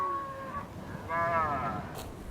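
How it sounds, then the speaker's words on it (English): Cattle on an open grazing range moo, two drawn-out lowing calls one after the other, moderately close with quiet ambience between them. "cattle begin life grazing"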